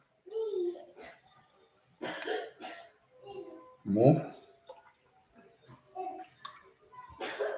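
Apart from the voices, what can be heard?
pouring water out of a shake container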